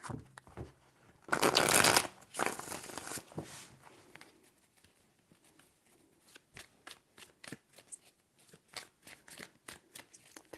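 Tarot cards being shuffled by hand, a loud riffling burst followed by a series of softer, irregular taps and slides as the deck is handled close by.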